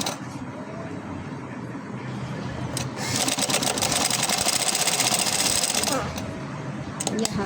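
A sewing machine stitches a frock bodice seam, its rapid mechanical chatter running close and loud through the middle stretch, with quieter handling noise before and after.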